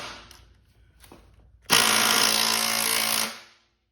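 Mini power tool, likely an impact tool, trying to break a bolt loose during shock removal on a CRF300L Rally motorcycle: after a few faint clicks, a loud, close hammering rattle runs about a second and a half, then stops abruptly.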